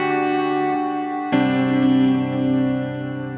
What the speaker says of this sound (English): So we have a delay, obviously, but then we also have a shimmer in there. There's a warm, a glitch, a space echo.